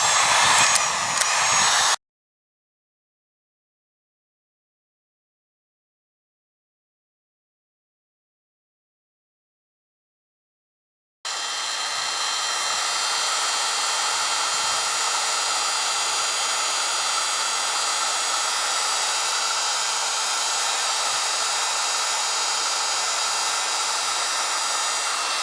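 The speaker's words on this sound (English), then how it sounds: "Alright, here's the heat gun." A heat gun's strong steady whoosh of blowing hot air starts after a brief burst and a long silence, then runs continuously and loudly to the end, during an underground 110V wiring repair.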